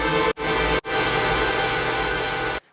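Future house track built in FL Studio with the reverb mix level pushed to maximum, giving a dense, washed-out roar of sound that cuts off briefly twice and then stops abruptly near the end.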